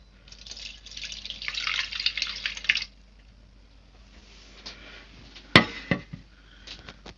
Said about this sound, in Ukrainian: На дно вони доливають трохи води.